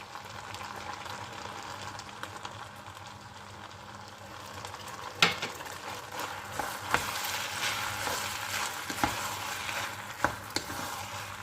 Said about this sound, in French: Et on mélange pour pas que ça attache à la poêle